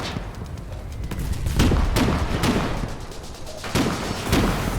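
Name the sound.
gunfire in the Foxhole video game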